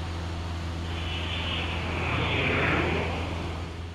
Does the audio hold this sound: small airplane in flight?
yes